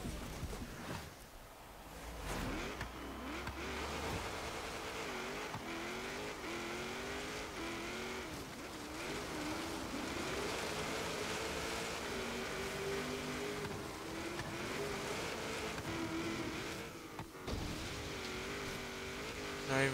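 A 1951 Holden FX Sedan in Forza Horizon 3 drives off-road, its engine droning steadily with shifting pitch as it revs and changes gear, accompanied by loose rumbling and occasional tire noise throughout.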